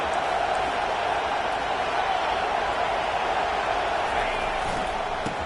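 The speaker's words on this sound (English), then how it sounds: "Listen to this crowd just shaking the girders of this place" A stadium crowd roars continuously in an NCAA college football video game, Texas versus Texas A&M, a dense, loud, steady cheering wall with no clear breaks.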